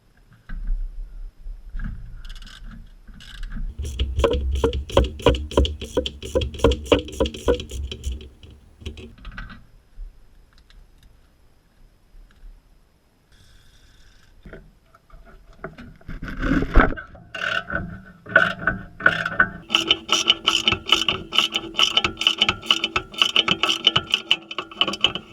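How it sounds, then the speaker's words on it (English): Ratchet loosening the nuts on the engine mounts of a BMW E46/E39 subframe, in rapid bursts of close metallic clicking with short pauses, then a louder, denser clicking run toward the end; no talk. "Removing the nuts of the engine mounts connected to the subframe."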